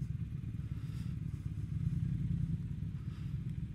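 A KTM motorcycle engine rumbles low and steady nearby, with an even pulsing throb and no break across the few seconds.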